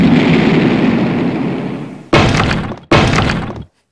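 Grenade launcher fire and a tall tower collapsing in the Max Payne 3 video game, a loud sustained crashing rumble followed by two sharp bursts of breaking debris before cutting to silence.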